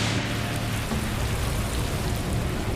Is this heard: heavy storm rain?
yes